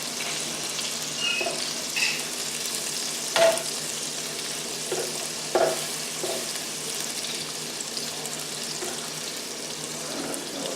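Liver and onions sizzle steadily in a pan, with a few sharp clinks and scrapes as metal tongs turn the pieces; no one talks over the frying.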